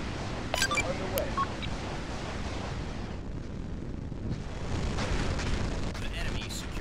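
Missiles launch from a rocket monitor unit in a real-time strategy game, with dense booming rumbles and a few sharp high bursts, while unit voice lines and noisy battle sounds continue around them.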